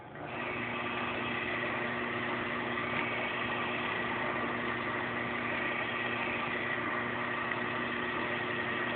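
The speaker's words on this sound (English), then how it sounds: "You can hear the motor is still running." The pump motor of a DuraBlue 4L hot melt adhesive machine hums steadily, a constant low drone with tonal whine that runs unchanged throughout, moderately quiet and without talk.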